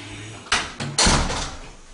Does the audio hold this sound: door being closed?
yes